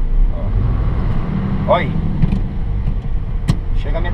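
A diesel truck in Japan pulls away in its very short first gear, its engine rumbling low and steady close by while someone talks over it.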